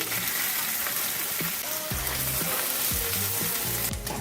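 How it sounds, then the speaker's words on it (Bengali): Onions frying in mustard oil in a wok, a steady loud sizzle throughout with a few clinks or stirs of a spatula partway through and no voices. "কড়াইতে সর্ষের তেল দিচ্ছি দিচ্ছি পেঁয়াজ দিচ্ছি"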